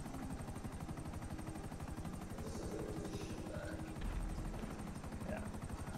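A helicopter in the video game GTA 5 thunders overhead with a loud, fast, steady rotor chop that continues throughout, a low thump near the end and a voice speaking briefly.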